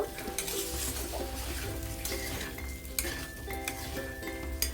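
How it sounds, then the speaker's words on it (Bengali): Cauliflower roast being stirred in a pan just after salt goes in, with a steady low sizzle and scraping of a utensil against the pan running continuously throughout. "লবণটা আমি অ্যাড করে দিলাম দিয়ে একটু নাড়াচাড়া করব"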